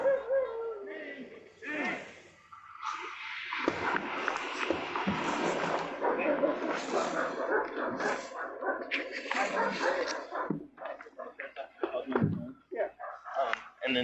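Dogs bark and yip repeatedly at a house during a police search, dense and overlapping for most of the stretch, mixed with whimpers while people talk over them.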